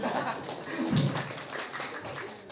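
A stand-up comedy audience breaks into applause and clapping, a moderate crackling patter that carries through the moment, mixed with the comedian's speaking voice.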